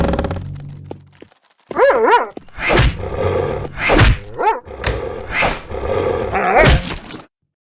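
A dog barking repeatedly in the video game Nosferatu: The Wrath of Malachi, a series of loud, close, sharp barks and yelps in irregular rhythm following a brief low rumble.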